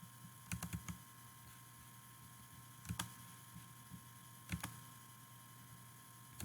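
A number being keyed into a calculator: a few soft, quick button clicks in small clusters, close but faint over a steady electrical hum.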